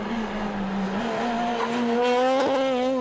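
A rally car in the Rallye du Condroz 2013, suffering a power steering failure, skids off the road with a loud sustained engine roar and tire squeal, the pitch rising and wavering as it slides, heard alone without voices.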